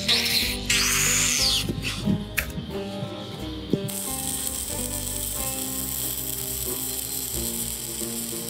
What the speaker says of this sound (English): I like to wire wheel it so that way it's clean material when I weld and not slag in my way.